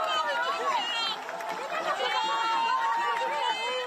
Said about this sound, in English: greeting a cheering crowd.